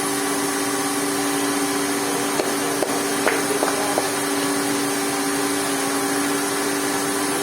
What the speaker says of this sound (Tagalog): habang binabrush niya, kaya may attachment siya na may brush para mabrush yung tela. And then, nahihigop din yung liquid